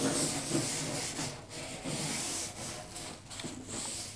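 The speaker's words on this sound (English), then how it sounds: "So I've stripped as much as I can, and now I'm just gonna scrub it." Stripped wooden furniture being scrubbed after chemical stripping, a continuous coarse rubbing and scraping with brief pauses, close and steady.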